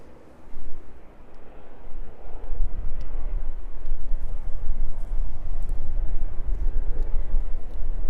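A Ryanair jet taxies at East Midlands Airport, a continuous low engine rumble and broadband roar, moderately loud and steady with some wind noise on the microphone, no talking.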